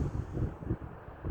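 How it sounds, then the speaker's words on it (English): Wind gusts buffet the microphone at a hilltop viewpoint atop Buzzards Roost, giving a low, rumbling roar that swells and eases over a second or so, close and steady with no voices. "Definitely windy today, so my hair's all messed up."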